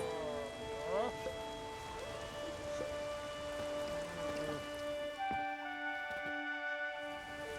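Rain in the video game The Witcher 3: Wild Hunt, a steady soft hiss of falling drops, under background music and occasional game effects.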